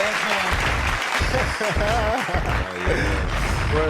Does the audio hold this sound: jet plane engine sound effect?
no